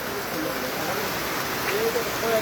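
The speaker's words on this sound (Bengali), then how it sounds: "আমাদের নোয়াখালীতে হঠাৎ করে বৃষ্টি।" Sudden rain falling in a market area of Noakhali, Bangladesh, just before dusk, a steady even hiss of rainfall on surfaces that stays at a constant moderate level throughout with no talk.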